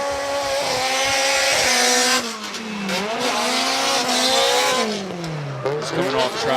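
A drift car at the Suzuka Twin Circuit revs hard while barely moving, with a loud engine note that climbs and falls in repeated sweeps. Faint crowd or commentary noise sits underneath.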